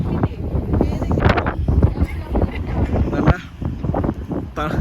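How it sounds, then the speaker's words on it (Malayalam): Strong, cold wind at Rohtang Pass buffets the microphone with a steady low roar, while people talk close by over it. "നല്ല തണുപ്പുണ്ടല്ലേ, കാറ്റ് ഭയങ്കര കേട്ടോ, തണുപ്പും."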